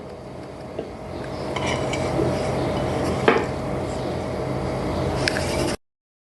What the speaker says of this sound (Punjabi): ਘੀਆ ਪਾ ਕੇ ਅਸੀਂ ਥੋੜਾ ਜਿਹਾ ਮਿਕਸ ਕਰ ਲੈਣਾ ਹੈ